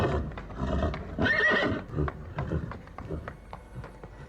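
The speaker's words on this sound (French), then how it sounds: "j'ai entendu le bruit des chevaux qui couraient vers l'étable et leur voix." Horses run toward the stable, hooves clip-clopping in a quick rhythm with loud neighs and whinnies over them, close and lively, then thinning into scattered hoofbeats.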